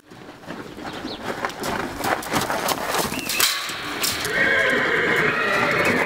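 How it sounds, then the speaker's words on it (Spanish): Horses whinny loudly and their hooves clip-clop steadily, with birds cooing faintly in the background, the neighing swelling louder toward the end. "Otra de las pasiones del primer actor Sergio Goyri, los caballos"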